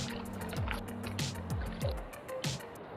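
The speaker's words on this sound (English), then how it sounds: "here's our pan. Let's go pan it out." Water sloshes and drips in a metal prospecting pan while gold panning outdoors, with irregular splashes, swishes and trickles at close range and no talk.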